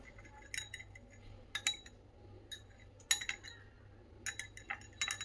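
A metal spoon clinks against a glass while stirring milk with half a lemon squeezed in, bursts of bright taps in quick clusters separated by short pauses, close and clear with no talking.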